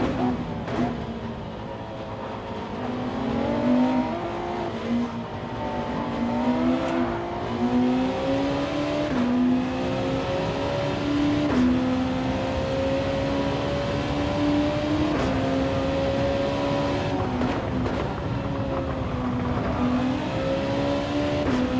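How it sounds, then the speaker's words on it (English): A race car engine in the Gran Turismo 7 video game revs and accelerates, its whine climbing and dropping through gear changes as a continuous, close drone with no talk. "this thing accelerates way better than that NSX"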